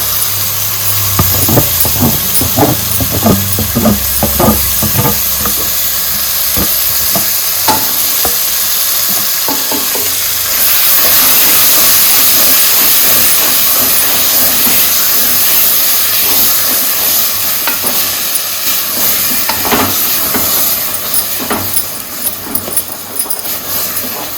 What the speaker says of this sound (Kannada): ಇವಾಗ ನಾನು ರುಬ್ಕೊಂಡಿದ್ದಂತಹ ಪೇಸ್ಟ್ನ ಹಾಕ್ತಾ ಇದ್ದೀನಿ. ಇದು ಚೆನ್ನಾಗಿ ಫ್ರೈ ಆಗಲಿ.